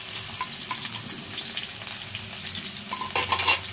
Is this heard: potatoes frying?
yes